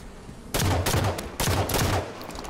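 Halo 5 multiplayer match on Xbox One with an assault rifle: two loud, close bursts of rapid automatic fire, each about three-quarters of a second, separated by a short pause, with no talk over them.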